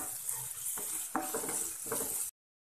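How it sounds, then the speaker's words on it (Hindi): Grated ginger sautés in a pan, a soft sizzle broken by several short scraping stirs before the sound cuts off abruptly. "इसी में मैं डाल दूंगी 2 चम्मच किसा हुआ अदरक। इसको 1 मिनट के लिए हम सौते कर लेंगे।"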